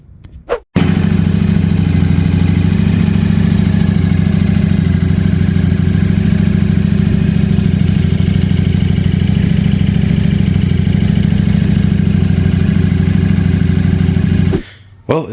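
Ducati Streetfighter V4 motorcycle engine fired up and idling: a steady, loud, close low rumble holding evenly for about fourteen seconds before cutting off.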